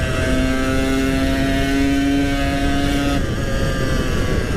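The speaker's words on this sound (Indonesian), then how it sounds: "Ini motor kayaknya lagi fit nih." A motorcycle engine drones steadily while riding on a quiet Jakarta street, a loud continuous hum with a sustained whining tone that drops away near the end, and no talking.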